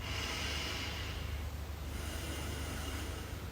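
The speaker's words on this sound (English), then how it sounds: "You're just going to press there and you're going to breathe." Slow, deep breaths are taken during a facial acupressure exercise, a soft hissing inhale followed by a quieter exhale, close and faint, with no talking.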